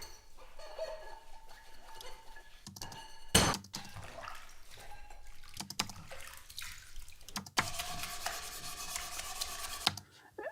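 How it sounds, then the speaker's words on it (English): Someone doing the washing up at home, with soft scrubbing and rubbing, clinks and a loud clatter of dishes, water sloshing, and a louder burst of running or splashing water near the end, recorded quietly and close. "The first one is actually a recording of my wife doing the washing up."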